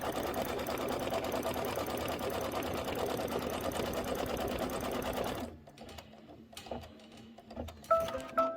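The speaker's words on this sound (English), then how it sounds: "let's go ahead and just stitch up that side just to hold everything in place" A sewing machine stitches fabric for a Kimberbell Sweet as Pie quilt block, a steady, fast, close hum for about five seconds before stopping, followed by quieter intermittent clicks and handling noises.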